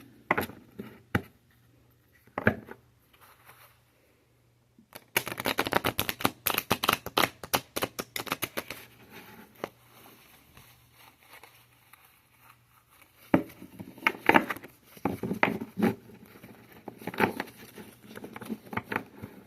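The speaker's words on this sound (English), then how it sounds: "Okay, that was like the worst shuffle ever." Cards are shuffled by hand in quick rapid bursts of flicking and riffling, separated by short pauses and soft tapping, close to the microphone.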